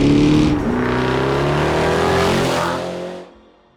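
A modified Jaguar V8 revs hard nearby, loud and rising through several climbing pitch sweeps, then the engine note drops away and fades out near the end.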